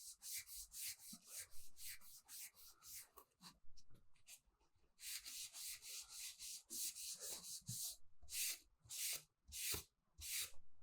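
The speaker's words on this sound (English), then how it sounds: "I'm coming back over just with a clean stain cloth and just trying to get some of the excess out" A clean cloth rubs excess aniline wood stain off a drum shell in quick repeated strokes, a dry rhythmic swishing close by, with short pauses between bursts and no voices.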